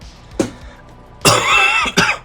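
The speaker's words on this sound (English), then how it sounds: "got a little bit of a cough" Three sharp coughs sound close up, one short, then a longer rough burst, then another short one.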